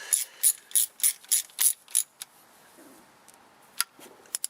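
A hand ratchet tightens transmission pan bolts on a 1999 Mazda Protege automatic, with a run of seven quick, close clicking bursts, then a few sparse single clicks in a quiet garage.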